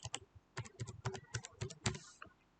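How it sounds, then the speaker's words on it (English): Keys tapped on a computer keyboard to enter a password at a login screen, a quick run of a dozen or so close, crisp clicks in an uneven rhythm, with no talking. "I will write now a correct password."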